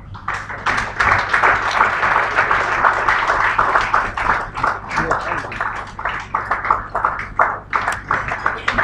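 An audience claps steadily to welcome Elder Namso Mori at a gathering, producing a dense, continuous patter of hands with voices mixed into the noise.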